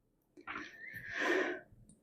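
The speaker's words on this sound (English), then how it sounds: "I sneezed there" A single quiet sneeze, a short breathy intake followed by a soft, muffled burst, close by and alone.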